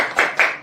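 Two sharp, loud hand claps close by, evenly spaced, in a rhythmic classroom tepuk semangat clapping chant at a special needs school, each clap ringing briefly before fading.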